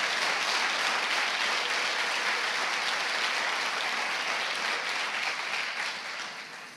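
A church congregation applauds together, a dense, loud, continuous clapping that holds steady and then begins to taper off toward the end.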